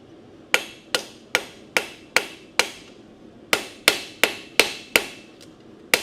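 A ball peen hammer strikes hot metal on an anvil in a blacksmith's forge, about thirteen sharp ringing blows in two steady rhythmic bursts separated by a short pause, each hit close and loud with a brief metallic ring.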